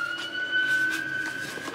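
An emergency vehicle siren passes outdoors, a steady wailing tone held throughout under faint background noise, moderately distant and indoors-muffled.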